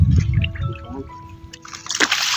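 Water splashing and sloshing at a patin catfish pond as it is poured over a surface to rinse off slippery oil, with a louder burst of splashing near the end over faint background hum.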